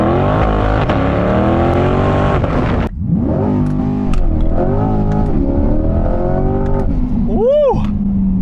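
A C8 Corvette engine revs hard toward 6,500 RPM for a burnout with traction control off, a loud, close rising roar that dips once and climbs again, ending in a whine, with a voice over it.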